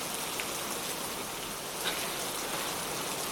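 Steady outdoor rain hisses without a break, broad and fairly loud, with a few brighter drop splashes standing out now and then.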